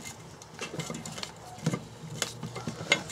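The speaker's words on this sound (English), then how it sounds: "let's give it a light hone and see how we get on" Honing the damaged cylinder of a Briggs & Stratton 2hp 60102 engine: irregular metallic scraping and rubbing strokes, close and moderately loud, with a few sharper clicks of the tool against metal.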